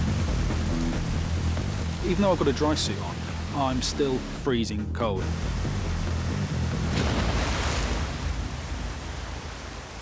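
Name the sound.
waterfall water pounding down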